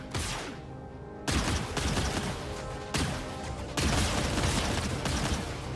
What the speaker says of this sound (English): Launch it. Launch the missiles.